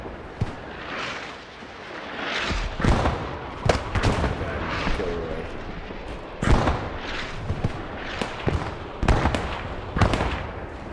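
Repeated mortar explosions from the WWII shooter Squad 44, sharp booming blasts arriving in irregular bursts over a continuous rumble of distant battle, with no voices.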